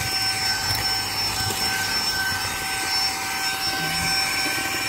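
A Saker 3-in-1 vacuum cleaner runs in a garage, giving a steady, loud motor whine with a constant airy roar that holds unchanged throughout, close to the listener.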